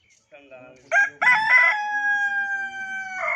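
A village rooster in Alkaray near Sialkot crows loudly and close by in one long drawn-out call, with a few clucks just before it.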